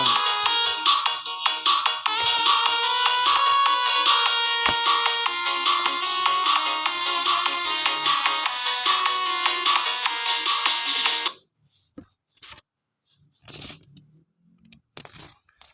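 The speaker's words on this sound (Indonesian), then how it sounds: "Nada dering HP Pak Adi berbunyi keras." A mobile phone ringtone plays a loud, close melody continuously for about eleven seconds, then cuts off abruptly, leaving only faint scattered rustles and knocks.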